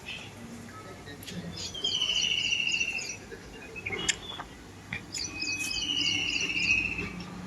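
Birds call in repeated bright whistling phrases outdoors in a village setting, over a steady bed of crickets, with occasional clicks and knocks from cooking nearby.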